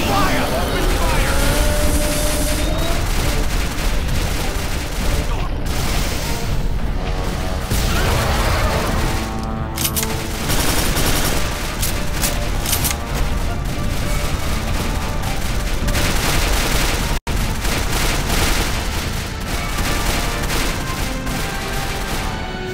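Sustained gunfire and explosive booms from the first-person shooter Quake 4 during a tunnel battle, loud and dense throughout with shouted voices mixed in, broken by a brief silent gap near the end.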